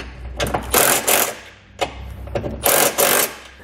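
Trailer hitch hardware being tightened on a 2019 Mitsubishi Mirage for a Curt Class I hitch installation, loud close bursts of a power tool whirring and rattling in short repeated runs separated by brief pauses, with no talking.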